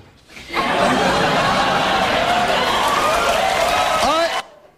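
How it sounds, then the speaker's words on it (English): A studio audience at a late-night comedy taping erupts in loud laughter and cheering mixed with clapping, a sudden dense roar that holds for about four seconds and then cuts off. "You hear the crowd laughing, you hear the crowd cheering."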